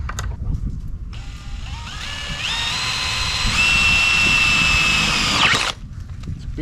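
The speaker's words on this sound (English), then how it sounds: "Let's go ahead and drill some holes, guys." Power drill boring holes into a metal ammo box, the motor whining steadily with pitch rising as the bit bites, running loud and close for several seconds before cutting off abruptly.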